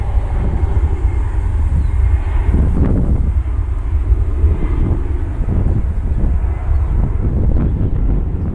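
United Airlines Boeing 737 MAX 9 airliner in new livery bound for San Francisco, a steady loud jet roar with wind buffeting over the whole stretch, heard from outside at an airport.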